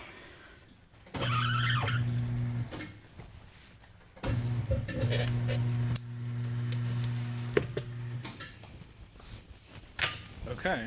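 Tire changer machine worked by a foot pedal while mounting a motorcycle tire for a 2016 CBR 300R flat tracker, with two or three bursts of a steady motor whine, each lasting a few seconds, alongside clanks and a brief spoken word.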